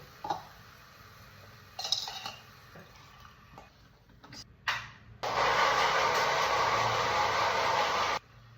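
Mixer grinder whirring loudly and steadily for about three seconds as it blends coriander chutney in a small jar, preceded by soft clinks and handling noises near the kitchen counter.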